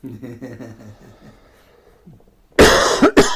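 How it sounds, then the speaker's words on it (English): A few throaty coughs from a dry throat burst out loudly near the end, following a stretch of quieter voiced sounds. "Coughing because my throat's all dry."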